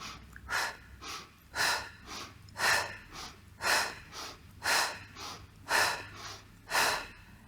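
Someone breathes in and out in a slow, even rhythm during a Pilates exercise, about eight close, airy breaths roughly a second apart, each a soft rushing puff with brief quiet between.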